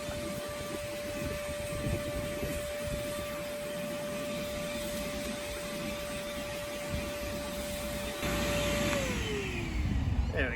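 A wet/dry vacuum runs steadily and loudly with a constant whine while sucking up instant snow, its motor audibly winding down near the end as it switches off; no one speaks.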